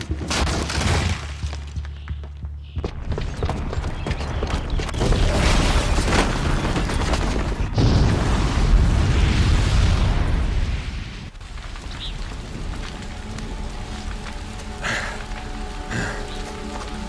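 A bomb booby trap going off in Horizon Zero Dawn: loud, rumbling explosive booms and a sustained crashing roar that peaks midway, then settle into lower debris noise and scattered game sounds.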